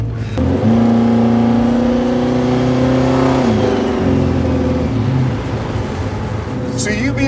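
A twin-turbo 540ci 1961 Chevrolet Impala bubble top cruises along with a loud, close, steady engine drone, its pitch shifting slightly as the revs change. The sound is continuous throughout.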